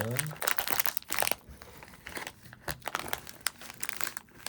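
Crinkly plastic wrapper of an Ülker Hanımeller cookie pack, limited olive and rosemary salted version, being torn open with several sharp crackling bursts close up, and a few quiet words spoken between them.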